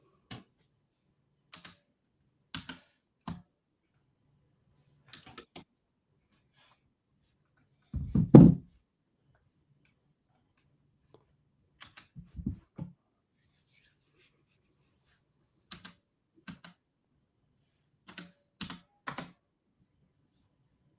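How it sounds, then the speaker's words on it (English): Faint, sparse keystrokes on a computer keyboard tick in short irregular bursts, with one louder clack near the middle and quiet gaps between. "I'll probably hear my keyboard"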